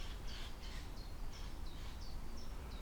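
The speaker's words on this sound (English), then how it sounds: "Something like a crow." A crow-like bird calls outdoors with a faint, fairly distant series of short, regularly spaced cries over steady background noise.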